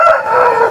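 A rooster crows loudly and close by at a country chicken farm that keeps roosters and hens. It gives one short, strained call with no talking.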